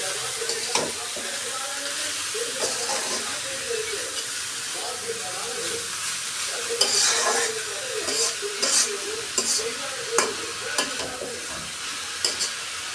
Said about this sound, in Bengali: পরিমাপ মতো লবণ দিয়ে দিচ্ছি দিয়ে এটা আমি কিন্তু আমি সুন্দরভাবে নেড়ে নিচ্ছি